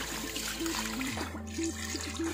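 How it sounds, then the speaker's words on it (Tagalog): Water pours steadily from a tap into a pot of meat being readied for boiling, a soft continuous trickling stream heard close and alone. "We're going to put water."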